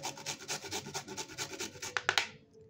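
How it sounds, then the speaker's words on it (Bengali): Carrots rasped against a hand grater in a steady, even rhythm of scraping strokes, close and clear, ending with a few sharper final scrapes. "এরকম একটা গ্রেটারের সাহায্যে এবার গাজরগুলোকে এইভাবে ঘষে নিতে হবে।"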